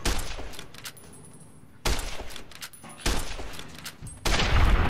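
Loud gunshots in the video game Fallout: New Vegas, several heavy blasts spaced about a second apart, each with a booming tail, no talk.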